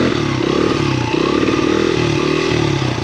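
A small motorcycle engine runs steadily and loudly up close, revving in uneven surges with some clatter while riders practice wheelies, no talk over it.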